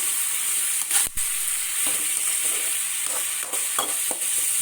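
Small chopped tomatoes with chili powder soften in a covered pan, giving a steady, even sizzle with faint scrapes and knocks over it.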